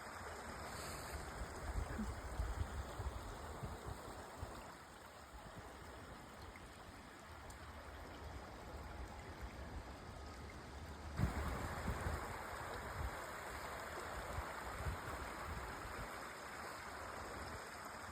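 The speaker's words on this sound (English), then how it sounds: "there's a really muddy creek down there" Muddy creek flowing below a trail on a winter hike, a continuous faint rushing wash of water heard from a distance, steady throughout with no speech.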